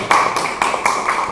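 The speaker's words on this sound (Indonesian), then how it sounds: "Tepuk tangan dulu, tepuk tangan. Tepuk tangan." Classroom students clapping hands during a microteaching lesson: a few sharp, irregular claps spaced across a short burst, moderately loud and close, with no talking.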